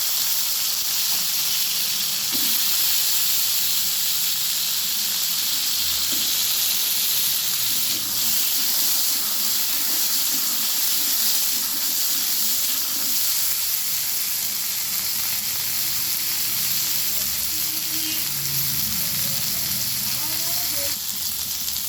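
Potatoes fry in hot oil with cumin seeds, bay leaf and green chili, giving a steady, close sizzle and hiss with scattered crackles and some clatter of stirring.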